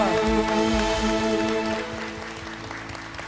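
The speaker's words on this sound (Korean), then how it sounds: "우리 모두 함께 하나님 앞에 큰 박수로 할렐루야 외치며 고백합니다" A Korean church congregation applauds during a Sunday worship service: a dense crackle of clapping runs under sustained music or singing and gradually fades.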